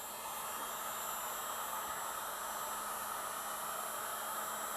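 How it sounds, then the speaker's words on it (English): An electric heat gun runs steadily, heating cold metal to soften sticker adhesive. It gives a faint, even blowing hiss with a low electrical hum underneath, unchanged throughout. "using an electric heat gun"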